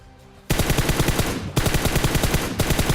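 Gunfire in PUBG BGMI: after a quiet moment, rapid automatic bursts break out, loud and close, in three long volleys separated by brief gaps.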